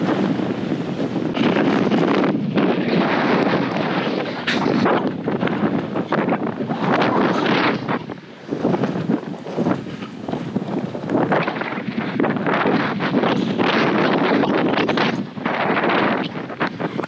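Strong headwind buffets the microphone while bikepacking on the Kokopelli Trail, a loud, unbroken roar of wind noise with gusting surges and brief dips, no voices.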